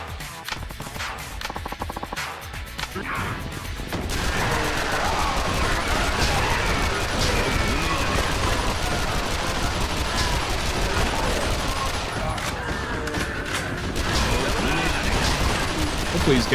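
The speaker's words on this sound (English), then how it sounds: "What is this gunfire sound?" Gunfire in the Yakuza video game breaks out as rapid, continuous bursts of shots. A few scattered reports come first, then a sustained loud barrage, while a voice talks over it.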